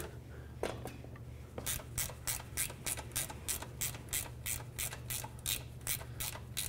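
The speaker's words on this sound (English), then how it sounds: "Let me grab a wrench for that. I'm just gonna start this one in." A wrench ratchets a bolt in while a clutch kit is installed on a 2006-2011 Honda Civic, giving a fast, even run of close clicking pawl strokes over a steady low hum.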